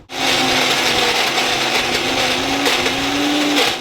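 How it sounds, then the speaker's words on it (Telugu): A mixer grinder blending ivy gourd chutney with tamarind, salt and onions, a loud steady motor whir with a constant droning pitch, close and continuous from start to end, with no talking. "ఇందులో మనము మిక్సీ పట్టుకుంటాం"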